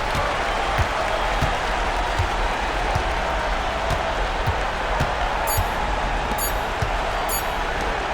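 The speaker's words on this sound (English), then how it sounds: "So the home crowd happy here as they get the victory." A simulated home arena crowd in the NBA 2K26 basketball video game keeps up a continuous roar of cheering and applause, with scattered basketball bounces and sneaker squeaks sounding through it.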